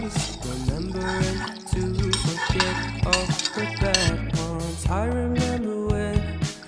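Duck curry with coconut milk, carrots and fried potatoes being stirred in a pan, with a spoon scraping and thick liquid sloshing steadily, close up, under continuous background music.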